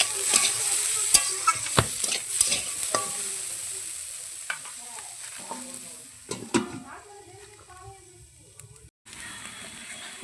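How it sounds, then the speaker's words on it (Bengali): Vegetables seasoned with salt and turmeric fry in a pan, giving a soft continuous sizzle broken by repeated scraping and stirring knocks from a spatula, close and moderately loud throughout. "নুন হলুদ দিয়ে দিয়েছি। এটাকে আমি ভালো করে ভেজে নেব।"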